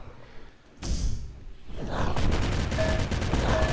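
Rapid gunfire bursts in the OpenArena first-person shooter game: a sharp whooshing shot, then a dense, continuous stream of weapon fire and impacts filling the rest of the moment.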